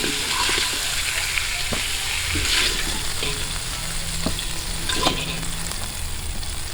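Spare ribs fry in their own rendered fat outdoors, giving a steady close sizzle with occasional stirring scrapes and pops throughout.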